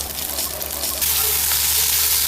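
Beef frying in hot oil with garlic in a pan, a steady close sizzle that grows louder and brighter partway through and then holds constant, with no talking.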